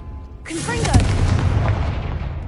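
A Confringo blasting spell goes off in a video game: a sudden loud burst that swells into a sustained, rumbling roar with a faint voice-like tone underneath.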